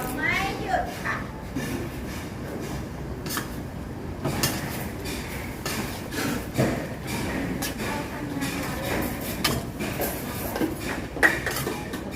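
Coriander root dry-roasted in a pan for chicken curry, with busy clattering and scraping of a utensil against the pan throughout, someone talking over it.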